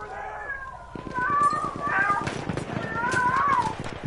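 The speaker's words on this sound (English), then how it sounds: "That's my fucking cat, dude. He's been trying to get outside." Indoor cat eager to get outside meowing repeatedly in drawn-out, wavering cries at close range, mixed with game sound and a voice during a Battlefield 1 session.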